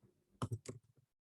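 Keys clack on a computer keyboard while a title is entered into reference-management software, a quick cluster of four or five soft, close taps within a second, faint and otherwise quiet.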